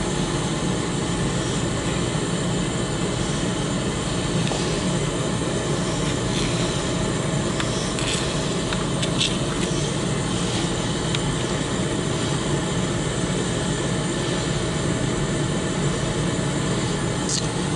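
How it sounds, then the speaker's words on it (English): Air rushes through the leaking valves of a Honda TRX250X barn-find engine, a continuous broadband hiss and roar held at an even level throughout with no talking. "you can hear the wind jetting right by them"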